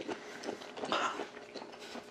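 Close-up chewing of crunchy raw starry flounder sashimi from Noryangjin fish market, a few soft, crisp bites and mouth sounds over about two seconds, with no talking.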